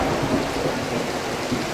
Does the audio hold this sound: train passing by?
no